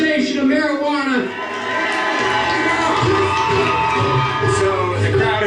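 Large outdoor crowd at a marijuana legalization rally in Seattle, a dense roar of voices with cheering and whoops, loud and sustained throughout, with scattered shouts rising above the mass of noise.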